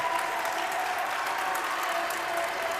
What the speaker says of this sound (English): it's the entire men's basketball team giving a cheer